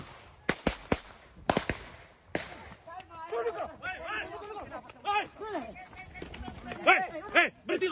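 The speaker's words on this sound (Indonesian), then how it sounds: "Rentetan tembakan peringatan ini terus dikeluarkan petugas saat mengepung arena judi sabung ayam" A rapid burst of sharp, loud warning gunshots fired by officers raiding a cockfighting gambling arena, followed by agitated voices and shouting crowding the scene.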